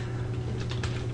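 Typing on a computer keyboard, a short run of soft, quick key clicks over a steady low electrical hum.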